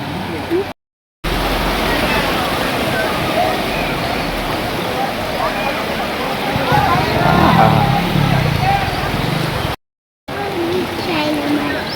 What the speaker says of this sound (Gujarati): નિશાળમાં બધે પાણી કરી ગયું જો.